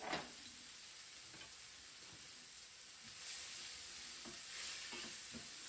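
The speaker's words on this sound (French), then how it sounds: "Maintenant, on va mettre notre mirepoix, les échalotes et les carottes. On va les faire suer." A mirepoix of shallots and carrots sweats gently in a pot, giving a soft, steady sizzle and hiss with occasional stirring scrapes, faint and with no voices.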